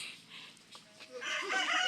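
A 45-day-old chicken calls out, rising into a loud clucking squawk toward the end, nearby and on its own.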